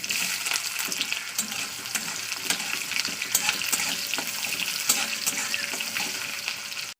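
Onion fries in hot oil in a pan, giving a steady, close sizzle with occasional stirring clicks throughout, and no talking.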